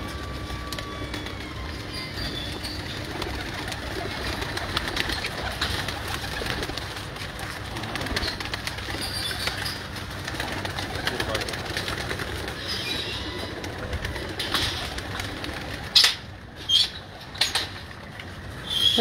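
Pigeons coo steadily over a continuous rumbling, noisy background, with a few sharp knocks near the end.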